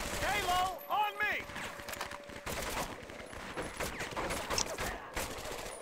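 Bursts of gunfire in the World War II shooter Medal of Honor: Vanguard, played on Hard, with sharp shots spread through a busy battle mix while voices call out over the first part.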